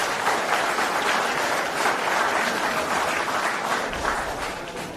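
A large audience claps steadily for panelists at an ESG summit, a dense, sustained wash of applause filling the room that holds at an even level for the whole stretch and eases slightly at the end.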